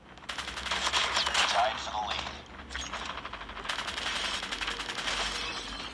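Rapid automatic bursts from a sniper rifle in COD Mobile, dense crackling shots in two long volleys with a brief pause between, loud and close, metallic ringing shell-like tinkles over the fire.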